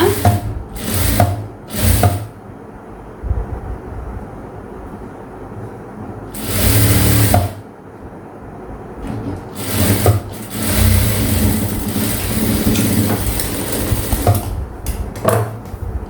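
Sewing machine stitching a blouse, loud bursts of rapid mechanical whirring in several runs of varying length separated by brief pauses, with a long steady run near the end.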